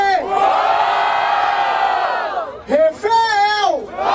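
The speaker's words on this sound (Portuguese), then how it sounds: "Barulho para as rimas do Kante!" Crowd at a rap battle semifinal in Barueri cheering and shouting loudly together, a sustained roar for several seconds, then a brief dip followed by another surge of yells.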